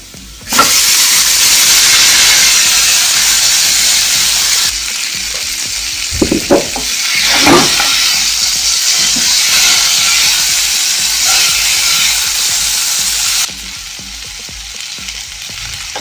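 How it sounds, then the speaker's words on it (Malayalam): Cooked breadfruit (kadachakka) fries in a pan with chili powder, making a loud continuous sizzle, with a burst of clattering and stirring partway through before the hiss settles and eases slightly at the end. "ഇനി നമുക്ക് വേവിച്ച് വെച്ചിരിക്കുന്ന കടച്ചക്ക ഇട്ട് കൊടുക്കാം."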